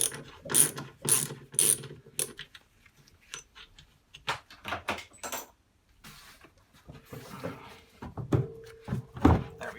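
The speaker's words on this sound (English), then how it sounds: "Of course I could use a longer ratchet." Ratchet wrench loosening bolts on a disassembled Indesit Innex washing machine with failed bearings: bursts of quick metallic ratcheting clicks in short runs, close and fairly loud, with pauses and scattered knocks between them.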